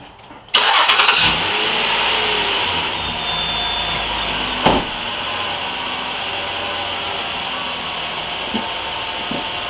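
A Nissan Pathfinder engine, freshly replaced, cranks and catches, then settles into a steady, even idle close by, with no talking.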